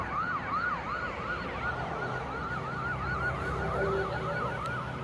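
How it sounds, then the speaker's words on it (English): Ambulance siren wailing in a repeating rising-and-falling pattern, moderately faint and somewhat distant, with steady background noise and no talking. "if you guys hear sirens, that's ambulance."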